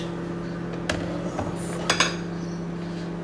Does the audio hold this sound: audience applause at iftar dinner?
no